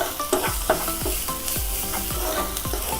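Onions sautéing in a pan with ginger-garlic paste, salt and curry leaves, a dense, close sizzle with rhythmic scraping strokes of a spoon stirring about twice per second.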